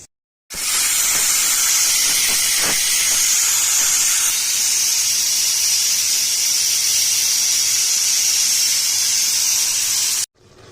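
Loud, steady steam hiss from tomatoes cooking in a Kashmiri winter kitchen, running continuously for about ten seconds after a sudden start and stopping abruptly, with faint clinks early on and no talk.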